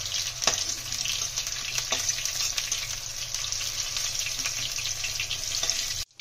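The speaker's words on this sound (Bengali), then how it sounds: "ফুলকপিগুলো ভেজে নেবো।" Cauliflower frying in hot oil makes an even, close sizzle with a few light taps scattered through it, then cuts off abruptly at the end.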